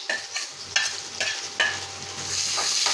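Onions frying in hot oil for a South Indian lotus stem fry, a close crackling sizzle broken by several quick stirring scrapes in the pan.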